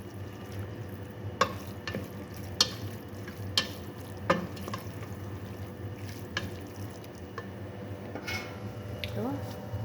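Jordanian spicy long macaroni being stirred in a pan, a steady scraping and sizzling with several sharp utensil knocks against the pan, close up, under a low kitchen hum.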